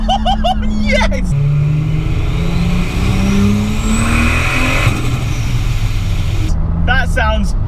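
A turbocharged Lexus IS200 with a screamer pipe pulls hard in second gear, its engine note climbing steadily over several seconds up close. A whooshing turbo hiss rides over the engine, with brief exclamations at the start and end.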